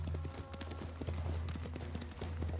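A horse gallops in Ghost of Tsushima with rapid, loud hoofbeats in a driving rhythm over a low, steady tonal drone from the game's music, close and prominent throughout the short stretch.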